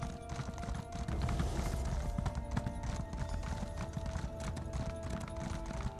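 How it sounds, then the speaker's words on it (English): Galloping hoofbeats of a horse mount at full speed in the video game Elder Scrolls Online, a fast, steady, continuous clip-clop over a dense game ambience throughout. "Hoof sounds when you're at max speed, just, it's kind of annoying."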